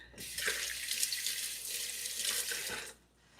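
A kitchen faucet runs as hands are rinsed during vegan soul-food cooking, a close, steady splashing hiss of water for about three seconds before it shuts off, with no talk.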